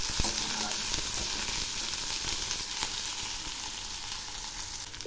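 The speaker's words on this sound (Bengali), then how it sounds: "এবার আমি এগুলো খুব ভালো করে ভেজে নেব।" Garlic, split green chilies and black cumin seeds fry hard in hot oil in a pan, a loud, continuous sizzle with occasional faint scrapes of stirring.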